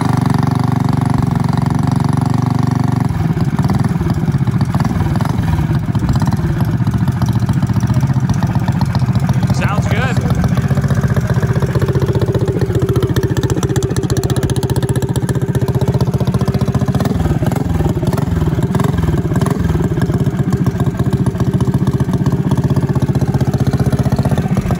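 A Tillotson 225 engine on an enduro racing mini bike runs loud and close, a steady throbbing drone that swells and sags in pitch as the throttle changes, with people talking over it.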